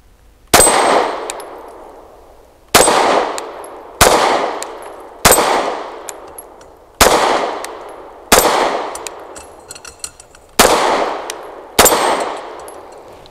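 Walther P99 AS Final Edition pistol firing double-action rounds at a steel target, eight loud separate shots each followed by a ringing metallic clang, evenly spaced with no talking.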